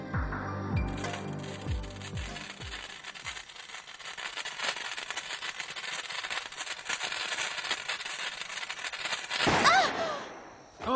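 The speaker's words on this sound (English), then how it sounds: "Father's gonna let us light firecrackers." A rapid string of sharp pops and crackles, like firecrackers going off close by, settling into a dense hissing crackle that fades near the end.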